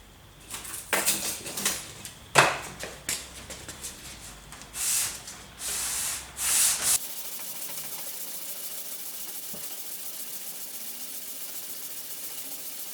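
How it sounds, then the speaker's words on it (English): Sandpaper worked over a wooden guitar fretboard, irregular scraping strokes close by for about seven seconds, then giving way to a faint steady hum. "back to sanding."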